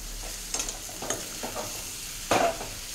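Dill leaves frying in a pan while being stirred, with a steady low sizzle and a few soft scraping stirs, one louder scrape near the end, and no talking.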